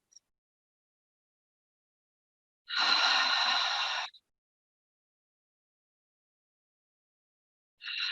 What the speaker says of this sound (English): we're going to inhale through the nose. And when you exhale, just exhale out the mouth